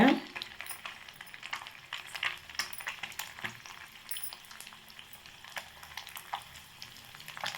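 Halved boiled eggs going into a hot pan of oil and onions for an egg dish, giving a steady crackling sizzle with scattered stirring scrapes, close and moderately loud, and no talking.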